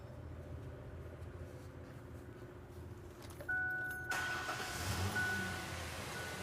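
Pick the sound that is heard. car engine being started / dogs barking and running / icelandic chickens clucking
car engine being started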